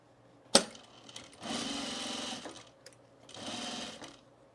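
A sewing machine stitches binding onto a homemade travel bag, running in two steady mechanical bursts of about a second each, separated by pauses, after a sharp click at the start. It sounds close and no one speaks.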